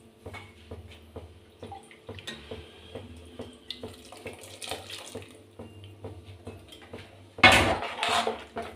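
Water is poured into a pot of chicken sambar with field beans, with soft repeated clinks of a utensil and a louder splashing gush near the end, close and fairly quiet.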